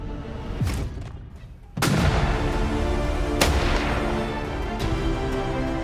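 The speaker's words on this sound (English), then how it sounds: "gunfire echoes across the wild landscape" Loud gunshots crack and boom several times over a rumbling, echoing background, with one heavy blast followed by sustained reverberating rumble.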